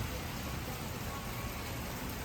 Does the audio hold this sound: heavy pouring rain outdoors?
yes